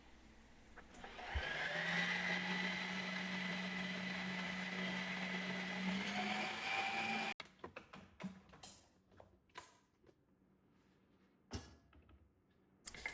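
Ninja Creami machine spinning carnivore ice cream: a steady, loud whirring motor with a rising tone that runs for several seconds, then stops, followed by clicks and clattering handling sounds.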